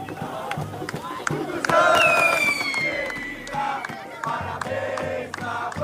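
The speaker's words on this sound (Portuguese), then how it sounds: "Isso é só a torcida do Galo, meu amigo." Atlético Mineiro supporters fill a stadium with loud crowd noise, rising shouts and cheers swelling into a sustained roar with a long whistle-like cry over the din.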